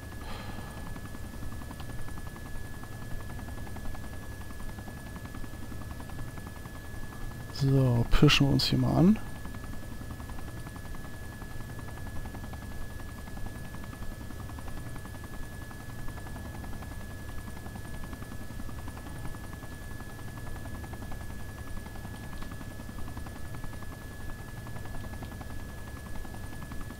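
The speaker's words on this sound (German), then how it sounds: "Irgendwie verfolgt uns der Hubschrauber immer noch." Steady helicopter rotor drone from the video game Arma 2, the chopper pursuing the player, runs throughout with a brief burst of sharp noise partway through while someone talks over it.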